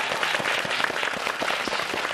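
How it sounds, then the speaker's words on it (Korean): A studio audience on a Korean health variety show applauds to welcome a guest, the clapping steady and moderately loud throughout the short stretch with no voices over it. "여러분 박수로 맞아주시기 바랍니다."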